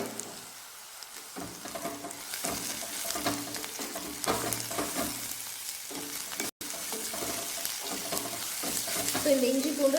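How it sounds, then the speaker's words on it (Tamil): Ginger garlic paste sautéing with onions in a pan for a sardine curry, a moderate crackling sizzle with stirring scrapes, briefly cut out near the middle. "இந்த இஞ்சி பூண்டு நல்லா வதங்கட்டும்"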